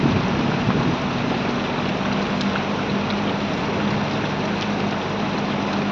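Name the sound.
heavy monsoon rain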